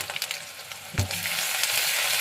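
Garlic, ginger, cumin and chili paste fries with browned onion in a pan, a close, continuous sizzle with one sharp scrape of a spatula near the start.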